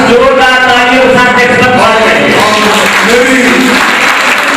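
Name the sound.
loud applause at community conference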